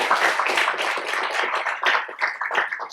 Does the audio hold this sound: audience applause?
yes